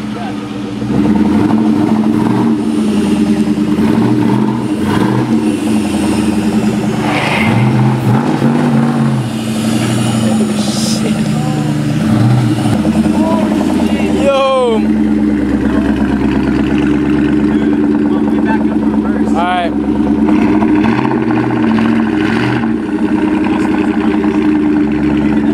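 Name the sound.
Shelby Cobra car engine running with new McLeod RST clutch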